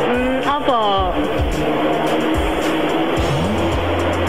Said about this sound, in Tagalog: narinig ko mga sakyan ha